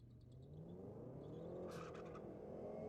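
A drag racing car launches off the line at a drag strip meet, its engine note rising in a faint, distant roar that swells and holds briefly, with no talk over it.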